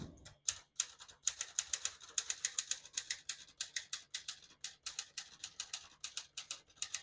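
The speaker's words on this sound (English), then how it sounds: "So I'm just going to type a sentence in black." Typing on a 1957 Smith-Corona Skyriter ultra-portable typewriter: a steady run of crisp, close key strikes with brief pauses between words, one short carriage-type clack early on, no voices.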